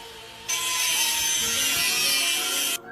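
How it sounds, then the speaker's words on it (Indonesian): An angle grinder disc cutting iron, heard as though coming from a tape radio player: a steady, loud, high-pitched grinding whine that starts abruptly, holds for about two seconds, then cuts off. "malah suara mata gerinda lagi motong besi"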